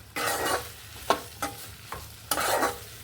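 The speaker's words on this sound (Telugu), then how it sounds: "కూటు పొడేసి ఫ్రై చేస్తున్నాను" Okra pieces fry in a little oil with kutu spice powder in a pan, close sizzling broken by several distinct stirring scrapes, no talk.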